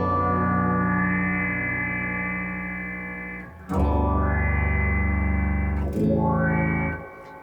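Guitar played through a Boss SY-1 synth pedal with effects: loud, sustained, distorted synth tones with a swelling chorus-like shimmer, broken by two sharp attacks as new notes are struck, with no talking.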